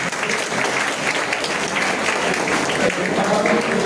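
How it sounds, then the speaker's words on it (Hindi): A school audience claps together in a dense, sustained burst of applause throughout, loud and close, with voices mixed in. "एक और ताली बजाता है।"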